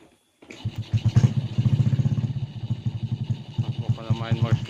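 A motorcycle engine starts up and idles with a steady, fast-thudding putter, close and fairly loud, with some throttle blips and people talking over it.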